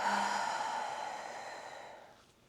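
A single long, slow exhale through the mouth during a guided breathing exercise, a soft breathy whoosh that starts fairly close and fades gradually to quiet over a couple of seconds.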